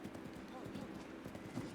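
Horse hooves galloping in Zelda Breath of the Wild, Master Mode, while riding in the rain, a fast continuous clip-clop rhythm mixed with rain and game sound, with a voice talking over it.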